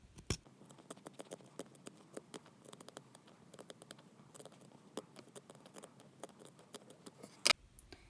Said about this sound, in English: you're just going to cut it out